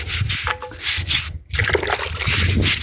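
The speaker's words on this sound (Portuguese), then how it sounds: "Coloque um pouco de água, pegue a escovinha, então, e comecem a escovar todo o vaso" A small brush scrubs a wet vase that is being restored, a steady rough rubbing with water that pauses briefly before carrying on.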